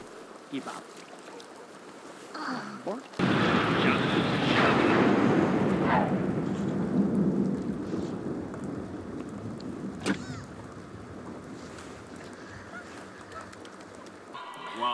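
Heavy rain from a thunderstorm in The Sims 2 comes in abruptly as a loud, dense wash, then settles into a steady downpour with a sharp crack partway through, and no one talks over it.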